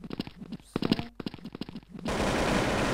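Rapid gunfire shot through a wall in a video game: dense bursts of sharp cracks for about two seconds, then a sustained noisy roar of fire, loud and close.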